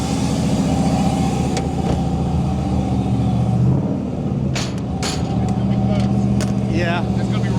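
A vehicle's engine laboring as it drives up onto a trailer, a loud, close, steady rumble with small rises in effort and a few sharp hissing or clanking bursts, while people talk over it.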